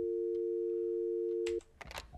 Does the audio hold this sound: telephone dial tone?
yes